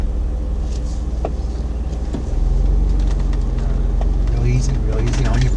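A jeep creeps up onto an off-road obstacle, its engine a steady low rumble that swells louder midway as the climb begins, with a person talking over it.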